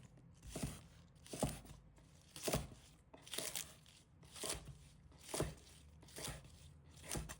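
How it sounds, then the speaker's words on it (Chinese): Knife chopping garlic sprouts into short pieces on a board, eight distinct evenly spaced cuts at a slow, steady rhythm, close and crisp against a quiet room. "把它切成小段"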